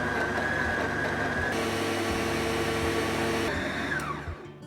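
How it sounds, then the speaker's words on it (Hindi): A blender runs loud and steady, whirring through smoothie ingredients with chilled frozen coconut water, its motor pitch shifting partway through before winding down at the end. "अब हम ये सारे इंग्रेडिएंट्स को अच्छे से ब्लेंड कर लेंगे।"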